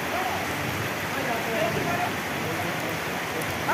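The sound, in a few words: heavy rain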